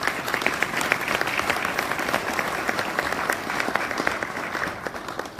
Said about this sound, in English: Jeanette, please your round of applause.